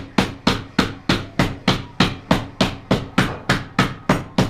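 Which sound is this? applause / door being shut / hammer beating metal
hammer beating metal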